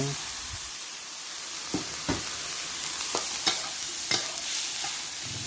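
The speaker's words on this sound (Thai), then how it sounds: "เสร็จแล้วก็ผัดให้เข้ากัน" Long beans are stir-fried in a pan with a dense, hissing sizzle. A spatula scrapes and knocks against the metal in irregular strokes, close up, and no one speaks.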